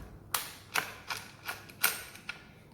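A 4mm Allen key working headlamp bracket bolts loose on a motorcycle, giving a series of about seven sharp metallic clicks at irregular intervals, close and moderately loud.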